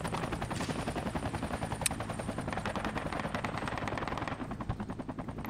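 Military helicopter in the tactical shooter Project Reality, a loud close rotor chop with a fast pulsing rhythm throughout, layered with bursts of machine-gun fire and occasional louder shots, without speech.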